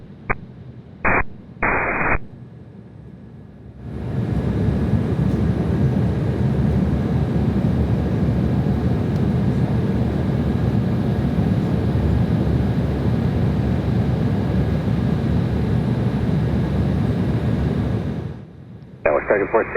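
An Alaska Embraer E175 airliner lands at LAX, heard as a loud, steady broadband roar of engine and wind noise lasting most of the stretch, bracketed by short bursts of radio static and clipped air traffic control transmissions.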